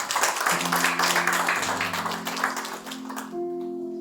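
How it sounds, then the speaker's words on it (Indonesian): A church congregation claps for God in loud, dense applause lasting a few seconds, with sustained keyboard chords underneath that continue after the clapping fades. "Tepuk tangan meriah buat Tuhan"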